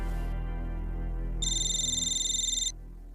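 Phone ringing on speakerphone after dialing, a steady electronic ring tone with a pulsing high trill, close and fairly loud, with no talk.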